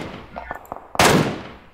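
A few short gunshots pop in PUBG Mobile, followed by one loud, close blast with a ringing, noisy tail that fades over the next moment.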